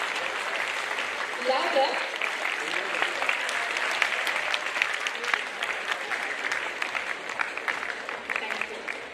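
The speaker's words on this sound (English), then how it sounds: "Can we hear a big round of applause, please?" Applause from an audience at an international conference on AI-driven management, a dense round of clapping that carries on for several seconds while a voice speaks over it.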